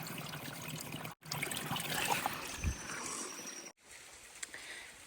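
Water trickles steadily from a small mountain stream in the Adirondack high peaks while a hiker fills up, a continuous close splashing with a brief pause and a few soft knocks, no talking.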